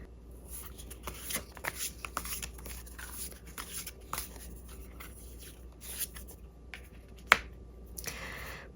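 Tarot cards are shuffled and drawn close up, with quiet crisp riffles and flicks, scattered snaps and one sharp slap of a card being laid down.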